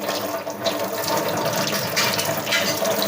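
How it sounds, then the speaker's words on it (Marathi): Steady rush of tap water running over fish being washed before frying, continuous and fairly loud at close range, with a few splashy changes as the fish are handled. "तर आता हे आपण मासे स्वच्छ धुवून घ्यायचे"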